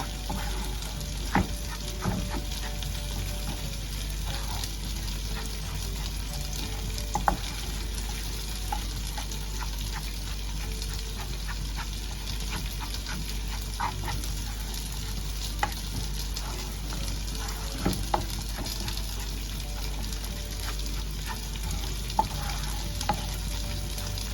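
Mutton bone curry masala with chilli and coriander powder fries in a hot pan: a steady, close sizzle runs throughout, broken by occasional sharp scrapes and clinks of a spoon stirring.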